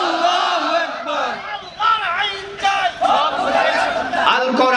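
A large crowd at a Bangladeshi religious political rally chants the takbir, Allahu Akbar, in loud, rhythmic unison bursts that rise and fall close to the microphone.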